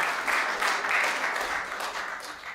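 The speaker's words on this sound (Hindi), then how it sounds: "तो आपकी जोरदार तालियों के बीच में" Applause from an audience at a comedy poetry show as a performer takes the stage, steady dense clapping throughout, fairly close, with a faint voice underneath.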